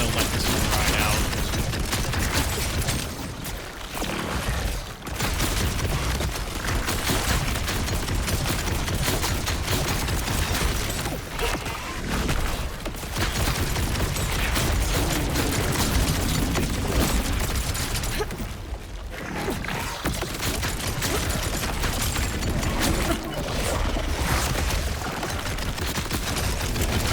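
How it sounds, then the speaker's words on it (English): Dense, continuous video game gunfire with rapid overlapping shots and booming impacts during the Bloomreaper boss fight in Ultimate Vault Hunter Mode. It is loud and sustained throughout, with brief dips in intensity. "I missed all of those shots"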